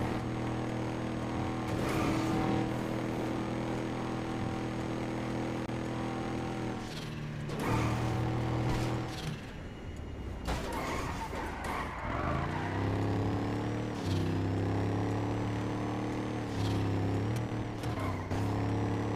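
A car engine in GTA NoPixel runs and revs steadily throughout, with gear shifts and rising and falling engine pitch, loud and continuous, with a brief drop around the middle before it picks up again.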